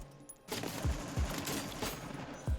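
Sustained automatic gunfire from a low-recoil weapon in Warzone 3, starting after a brief quiet moment and continuing as a dense, loud stream of rapid shots with heavy low thumps, with no talking.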